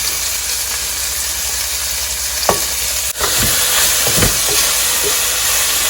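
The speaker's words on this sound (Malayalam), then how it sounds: "ഈ ഉള്ളി ഒന്ന് വഴണ്ട് വരണം" Onions sauté in hot olive oil in a pan for a Kerala-style tapioca biryani, giving a loud, steady sizzle with a few stirring scrapes and clinks partway through.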